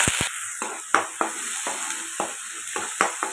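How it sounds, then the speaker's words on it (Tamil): Ground onion paste sizzles and spits in hot oil in a pan, a steady frying hiss broken by sharp stirring scrapes and clacks at an uneven pace, close and clear with no talking. "2 வெங்காயம் அரைச்ச விழுது இதில் போட்டுக்கலாம். எண்ணெயில் இது எண்ணெயில் நல்லா வதக்கலாம்."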